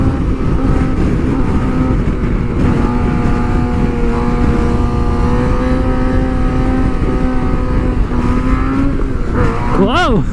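A vehicle engine revs hard and steady during a street wheelie, loud and close, pitch holding then shifting upward near the end, with a voice speaking over it.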